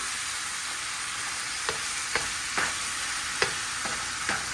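Spinach wilting in a hot pan gives a steady, even sizzle, with a few sharp utensil clicks at irregular intervals and no talking.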